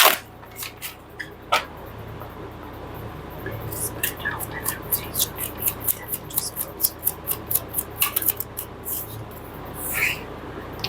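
Tarot cards shuffled and handled up close in a quiet room, a rapid run of crisp flicking, riffling taps with short pauses, joined by soft breathy whispering.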